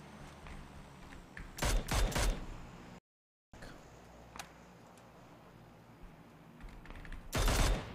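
Gunfire from the battle-royale shooter PUBG: a tight cluster of sharp, loud shots around the two-second mark, a brief dead silence, then a quieter stretch before another burst of shots at the end.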